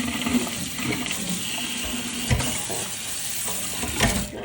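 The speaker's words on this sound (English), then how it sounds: "I'll just flush that with boiling water again" Boiling water is poured down a kitchen sink drain during cleaning, a continuous gurgling, splashing rush with a few louder surges, close and fairly loud.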